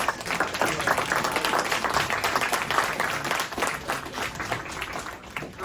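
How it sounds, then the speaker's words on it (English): A crowd claps for contestants at the Armed Forces PB&J Classic, a dense, continuous wash of applause at full strength from start to finish, easing only slightly at the end. "Let's give our contestants a huge round of applause"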